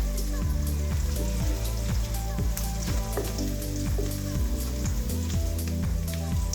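Chopped garlic fries in oil in a pan, crackling and sizzling steadily and close up, with dense popping and no voices.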